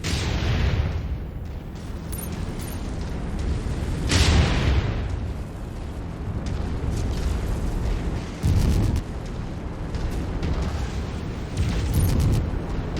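Missile strikes and explosions in a combat game: several heavy booming blasts with a continuous rumbling roar, loud and close, with sharper bursts around the middle and end.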